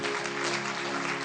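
Congregation at a Sikh sermon claps together, a continuous broad wash of applause with a faint steady hum beneath it, fairly soft and without talk.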